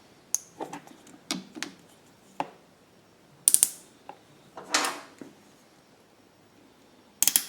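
Metal hose clamp being fitted onto a hose barb on a GenMax GM9000iED generator's extended run fuel kit, giving a run of sharp ratcheting clicks and clacks in short separated bursts, close and fairly quiet.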